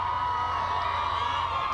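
A large crowd at the LSU women's basketball national championship parade roars and cheers in a steady, sustained wash of distant voices, with no single shout standing out.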